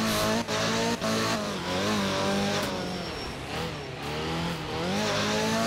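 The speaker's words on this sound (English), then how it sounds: "It's an Opel Ascona." Opel Ascona Group 4 rally car in art of rally on a wet German stage, engine close and loud, revs climbing and dropping through gear changes, with brief skidding and tire noise, no voices.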